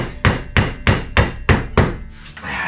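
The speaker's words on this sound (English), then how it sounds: "Would you just hammer in there straight?" Six evenly spaced hammer blows strike into wood during office wall construction, each a sharp close thwack with a short ringing decay, followed by a brief quieter scrape.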